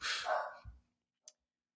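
A dog gives one close, loud bark with a throaty tail, followed after a pause by a much fainter short yip.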